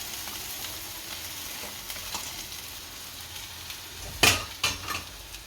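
Poha being stirred and mixed in a pan, soft and close, with a faint sizzle throughout and two sharper scrapes of a spoon against the pan near the end.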